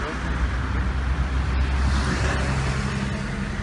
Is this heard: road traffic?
yes